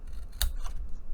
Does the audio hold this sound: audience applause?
no